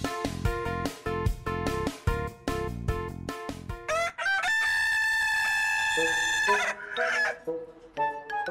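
A rooster crows in an advertisement for an Okinawan brand of free-range jidori chicken. A long, sustained crow rises midway after a run of punchy, rhythmic music, and the music returns beneath it.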